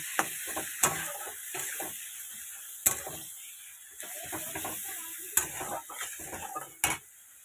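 Spices with turmeric fry in oil in a pan while a spoon stirs them. Irregular scrapes and sharp metallic clinks sit over a soft background sizzle, with no talking.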